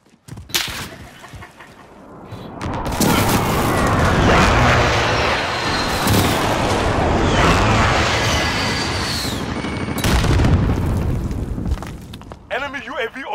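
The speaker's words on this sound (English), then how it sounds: "Enemy precision airstrike inbound." Precision airstrike explosions in a video game: loud rolling booms and rumbling blasts build and sustain for several seconds, mixed with crackling debris, and a brief voice comes over the top near the start.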